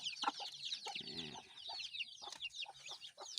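Chicks peep and cheep constantly in a bamboo coop, a dense, high-pitched twittering chorus with a few louder close calls and a brief low clucking from a hen near the middle.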